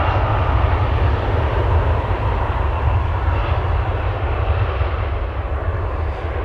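Lufthansa CRJ 900 long-range jet, 15 years old, departing Amsterdam Schiphol for Munich: loud, continuous roaring engine thrust with dense low-end rumble, close and steady, gradually easing slightly toward the end.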